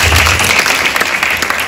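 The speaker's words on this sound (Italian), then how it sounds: "per la quale vorrei un applauso" A crowd at an Italian cultural event applauds loudly for the festival's director. A brief, thick wash of clapping runs steadily throughout.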